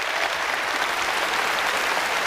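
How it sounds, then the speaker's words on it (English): Audience applause at the World Magic Awards 2009 as a volunteer from the crowd joins the stage, an even, dense wash of clapping from a large audience, steady throughout. "Please give this gentleman a short round of applause."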